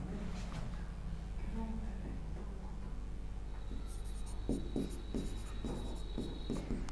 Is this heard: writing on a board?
yes